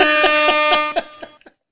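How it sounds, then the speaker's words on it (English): Loud, blaring air horn blasts in a rapid stuttering rhythm, fading into a few short trailing bursts. "I just had to give you the air horn."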